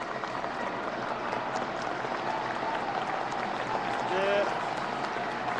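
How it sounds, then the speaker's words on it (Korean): Party members at a founding convention applauding and cheering the election of their new party leader, a continuous crowd roar and clapping throughout, with a voice speaking over it and a brief louder swell near the end. "모두 우리 일어서서 환호와 뜨거운 박수로"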